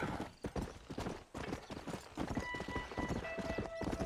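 Horse hooves clip-clop steadily in Red Dead Redemption, close and brisk over rough ground, with a whinny-like cry and game sounds layered through the walk.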